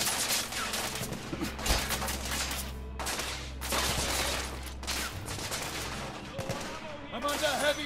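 Gunfire in The Order: 1886 crackles in dense bursts and volleys under a low rumbling game ambience, with brief pauses between exchanges.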